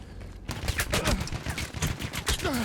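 Rapid bursts of video game gunfire, fired with a Razer Lancehead wireless mouse, crackle loud and close in quick volleys that continue without a break, with no talking.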